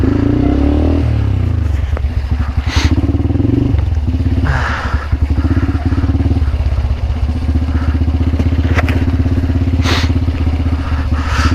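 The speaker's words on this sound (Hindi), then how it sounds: "बाइक ऐसी पहली गियर में बाइक सिर्फ और सिर्फ स्लिप ही हो रही है बस" Motorcycle straining in first gear on a steep mountain road around Babusar Top on the Karakoram route, its engine droning loud and close with rattling, clattering strain and occasional surges as the rear wheel slips.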